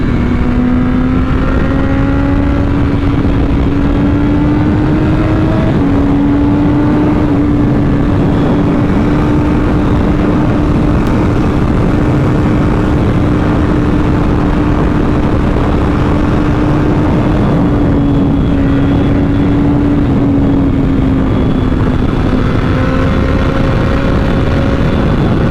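A BMW S1000RR motorcycle engine pulls hard in second gear, its loud, steady high-pitched drone climbing and holding for a long stretch before easing off, close to the rider with heavy wind rush underneath.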